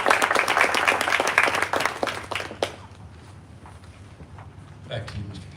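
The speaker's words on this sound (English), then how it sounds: "if we could get the parents to stand so we can give you a big round of applause as well" Brief round of clapping from a board of education meeting audience honoring parents, lively for under three seconds before tapering off into a quiet room with faint voices and movement.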